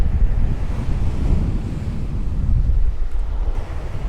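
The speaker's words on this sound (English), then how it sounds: "waiting for a wave that gives me lots of foam leading back out as it retracts here" Surf at Spurn Point washing up and then draining back out across the shore in a steady foamy rush, with a broad continuous roar and wind buffeting the microphone.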